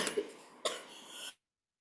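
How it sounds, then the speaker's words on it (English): Two short, harsh coughs, close and fairly loud, the second following about half a second after the first, then a breathy tail before silence. "sorry for my bad cough"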